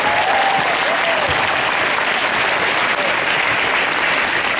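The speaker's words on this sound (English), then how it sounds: "how about a big round of applause for our hardworking kids." An audience at a martial arts event applauds for the kids, a dense, steady roar of clapping at full strength throughout, with faint voices underneath.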